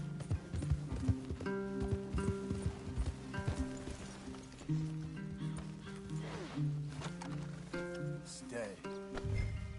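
Horses' hooves clip-clop in a PS4 video game, a steady, fairly faint rhythmic clatter running throughout beneath game music and voices, with a brief whinny partway through.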